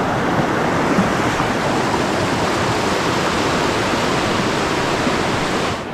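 Karamana river running high and somewhat muddy through forest, giving a steady, close, full rushing wash of flowing water that holds unchanged throughout with no voices.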